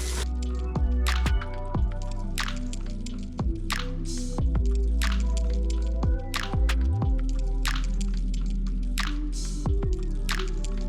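Water is washed over flood mud, producing repeated drips, squishy splashes and liquid pours against a steady low hum, with no talking.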